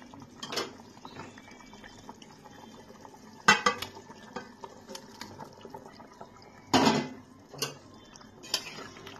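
Metal spoon and utensil clatter against a cooking pot as fried eggs go into a simmering cauliflower and potato curry, with several distinct clanks and scrapes spaced across a quiet kitchen background.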